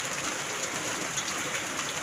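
Steady rain falls in a dense, even hiss, a constant patter with no breaks, moderately loud and close.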